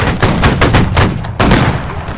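Volley of gunfire in a video game, several broadband shots cracking out in quick succession with a sharp fresh burst midway, loud and close, with shouting around the firing.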